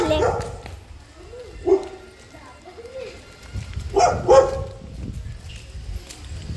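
A Labrador barks a few times in short bursts at moderate distance, with people talking nearby.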